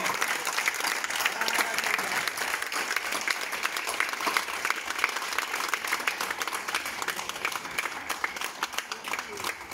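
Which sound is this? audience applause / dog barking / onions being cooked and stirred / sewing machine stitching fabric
audience applause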